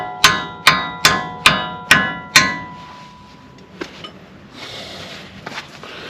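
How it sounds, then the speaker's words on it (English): Hammering a new brake caliper into place on a 1977 Ford F150: six loud, evenly spaced metallic strikes ringing close up, followed by a couple of lighter clanks and shuffling handling noise. "just push the caliper up and move it around till I can get that started up in the groove. And just drive it in."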